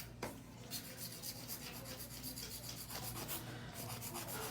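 A hand file rubs back and forth across a long acrylic nail, giving steady, quiet, gritty scraping strokes in an even rhythm close up, with no talking.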